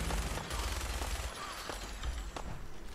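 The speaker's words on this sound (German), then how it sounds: "Ey, wer schießt da?" Dense, continuous video-game gunfire in Fallout 4, steady loud rattling shots with scattered sharper cracks and impacts throughout.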